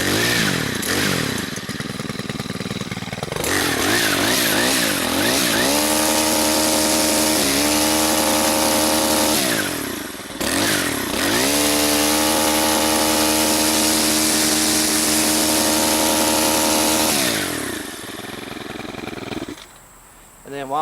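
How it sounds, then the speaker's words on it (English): A STIHL KM 130R multi-tool's small two-stroke engine is pull-started, then runs with a loud, steady buzzing drone, rising and falling with the throttle and briefly cutting out, while someone talks over it. "let me go ahead and start it up, and you can hear what it sounds like at least"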